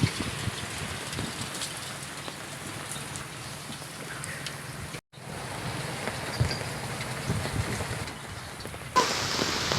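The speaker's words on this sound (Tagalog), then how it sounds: "Yan, lumakas na naman ang ulan" Heavy rain pours over the sea beside a boat, a dense steady hiss of drops on water and surfaces that continues throughout with one brief dropout midway and a slight lift near the end.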